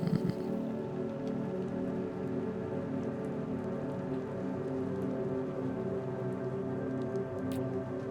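Steady rain falls in a My Hero Academia simulator video game during a fire-and-rescue dispatch, a dense, continuous patter and hiss filling the whole clip without pause.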